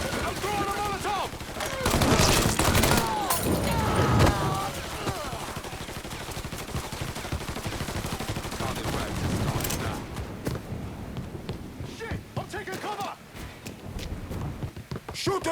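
Gunfire from the video game Mafia 3 crackles in dense bursts throughout, loud and close, with a heavier volley near the start, while voices shout over the shooting.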